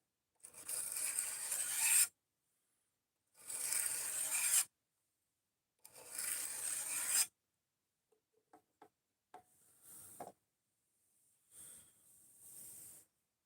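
A knife blade drawn backwards across a sharpening stone with very light pressure, three distinct raspy strokes followed by fainter, shorter scrapes and small ticks, close and quiet with silent gaps between.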